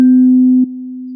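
A struck tuning fork rings as a pure, steady tone, loud and sustained through the whole moment with a slight drop in level partway, no voices over it.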